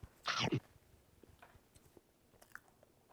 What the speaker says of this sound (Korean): 바나나 한번 먹어볼래요? 바나나 찹쌀떡.